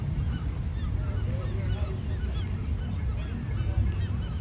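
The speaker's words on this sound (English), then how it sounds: "The birds are going crazy." Geese honking in a crowd at a city park lake, many overlapping calls continuing throughout over a steady low background rumble.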